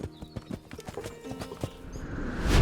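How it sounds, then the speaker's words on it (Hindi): A princess's horse clip-clops away with a run of distinct hoof beats in an uneven trotting rhythm, alongside soft tonal background music that swells toward the end. "घोड़े पर बैठकर चल दी"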